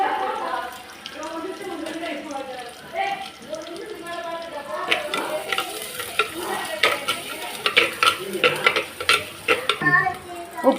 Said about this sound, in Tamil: கருவேப்பிலை நல்லா ப்ரௌன் கலரில் வச்சேன். வெங்காயம் வதங்கட்டும்.